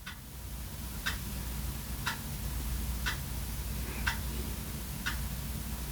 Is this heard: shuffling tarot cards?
no